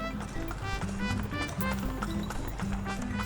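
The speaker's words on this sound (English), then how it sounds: "The horse-drawn carriage is a Yucatan tradition." Hooves of a tourist horse-drawn carriage clip-clop steadily in Izamal, Yucatán, a close, even trotting rhythm with street ambience throughout.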